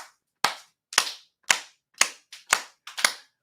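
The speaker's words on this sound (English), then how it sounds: "Can you guys clap for me?" Several sharp, loud claps in a steady rhythm, about two per second, each ringing briefly, with a few doubled hits from hands slightly out of sync.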